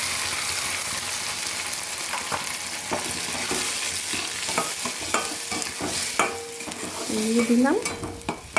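Ground spinach fries in a pan with onion and garlic, a steady loud sizzle broken by repeated scraping knocks of a spoon stirring, with a short spoken remark partway through.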